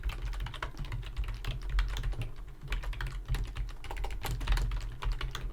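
Rapid, steady typing on a computer keyboard while writing C# code, a dense run of close clicking keystrokes alone with no talk.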